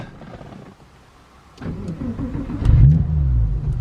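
A Porsche 996 Carrera 4S engine cranks and catches, then settles into a low, rumbling idle with a brief rev, close by.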